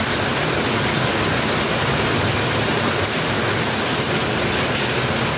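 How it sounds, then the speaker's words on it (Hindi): Heavy rain pours in a loud, steady, dense hiss that never lets up, with no voices over it. "एकदम तेज बारिश आ गई।"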